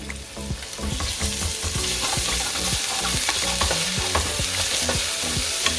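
Ginger and garlic paste sauté with onions and salt in a clay mud pot, giving a steady close sizzle broken by frequent scraping and clinking strokes of a stirring spoon, with no talk.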